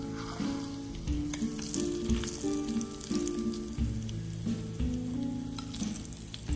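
Hot chili oil poured into a bowl crackles and sizzles steadily, a close, continuous frying hiss with small bursts and no talking.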